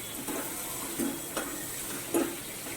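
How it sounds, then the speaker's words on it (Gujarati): Ridge gourd and sev sabji being stirred in a hot pan, with a soft continuous sizzle and a few distinct scraping stirs of the spoon against the pan spaced about a second apart, close and without talk. "પછી એને થોડી વાર રીતે મિક્સ કરી દેવાનું છે."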